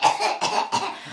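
A man imitates someone choking and coughing, giving three harsh, close coughs in quick succession with no other sound around them.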